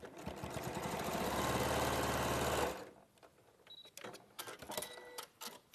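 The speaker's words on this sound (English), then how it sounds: "you'd sew one cornerstone on to the end of your sashing" A sewing machine stitches a cornerstone onto quilt sashing in a fast, continuous whirring run for nearly three seconds, then stops, leaving faint clicks and handling noises.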